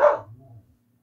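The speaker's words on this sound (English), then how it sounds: "Jason, you can mute your mic while the dogs are fighting if you want." Dogs scuffling indoors: one sharp, loud bark trails into a low growl, then a brief yip follows a moment later, close to the microphone and with no talking.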